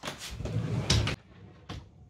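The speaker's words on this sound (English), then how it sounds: "I'll also show you a little view of how it actually looks when I open the drawer." A drawer in a baby's room slides open with a short scraping rumble, then a softer knock follows, close and quiet.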